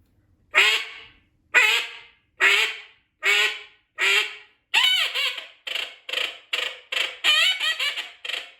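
A Kynat TH1 acrylic duck call gives a series of quacks imitating a female common teal, first five slow spaced calls, then a faster run of shorter quacks.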